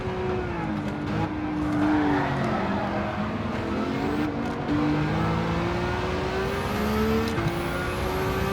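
Race car engine in the Gran Turismo 7 driving game, a loud continuous high-revving drone that rises and falls through gear changes, with tire squeal and skidding, close and steady throughout.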